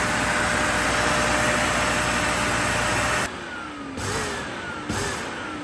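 A new Dyson Ball Animal 3 Extra vacuum cleaner runs with a loud, steady motor whine and rushing airflow, then the pitch drops and surges in a few short bursts as the motor winds down and restarts, close up with no talk.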